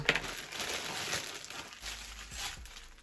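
Plastic Ukrposhta postal parcel packet being torn open close by, quiet crinkling and rustling handling noises in short bursts, with no speech.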